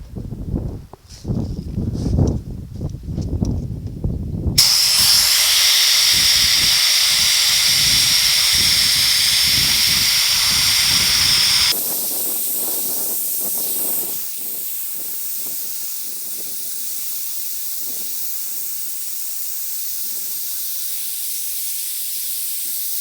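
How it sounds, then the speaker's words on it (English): Sandblaster driven by an air compressor blasting the rusty, pitted cab of a 1950 Chevy truck, a loud steady hissing roar that runs continuously after some earlier scattered rattling. "let me back the camera away, get the compressor going, and let's make a mess"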